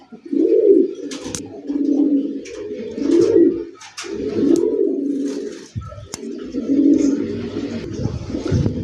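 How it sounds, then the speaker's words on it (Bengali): Rajshahi Giribaz pigeons coo in a loft, low rolling calls repeating in close, loud bursts with short pauses between them. "ডানে বামে পায়রা ডানে পাইরি, দেখার মতো মাশাল্লাহ"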